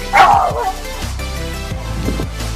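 A dog barks and yips a few times close by in a garage while a Honda Civic's front brakes are being upgraded, with short whimpering yelps between the barks and no talk.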